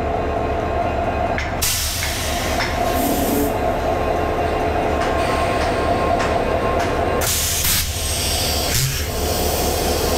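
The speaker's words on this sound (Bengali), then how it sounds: "আজকের লোকো 3007 হান্টিং চলছে।" Meter-gauge diesel locomotive 3007, a modern AC-system 3000-series engine, idles with a steady, loud mechanical drone at a station, with a couple of brief hissing bursts breaking through.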